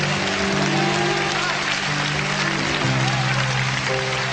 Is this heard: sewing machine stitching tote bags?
no